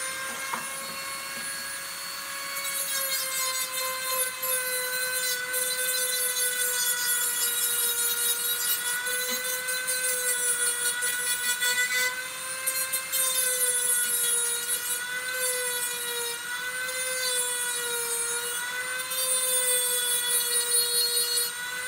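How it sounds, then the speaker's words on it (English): A small cutoff wheel grinds parts off a 1/64 scale IH 9370 model tractor, giving a sustained high whining tone that wavers in pitch and runs alone for about twenty seconds, growing slightly louder after the first few seconds. "I just used my cutoff wheel on the side"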